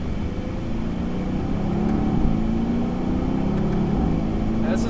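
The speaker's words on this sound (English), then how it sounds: "This is me shifting at 4 grand." A Mercedes-Benz AMG C engine drones steadily from inside the cabin, a loud low rumble holding through a gear shift at about 4,000 rpm with a slight swell in the middle.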